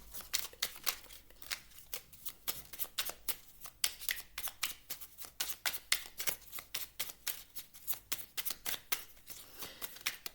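Oracle cards from a small druid oracle deck being shuffled, a quick rhythmic run of crisp riffling strokes repeating steadily up close, with no talking.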